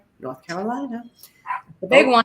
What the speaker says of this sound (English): excuse my dog barking, I have a feeling my groceries are being delivered.